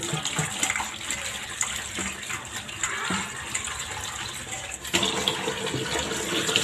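Dried seer fish (vanjaram karuvadu) being rinsed in water, with a steady splashing, gushing wash of water running continuously at moderate level, close by.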